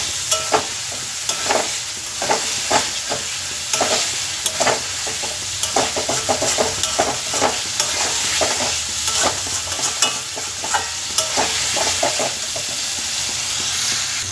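Fried fish pieces being stirred into oil-rich spice masala in a pan, with steady sizzling and a run of repeated spatula scrapes and clacks, close and fairly loud, no voices.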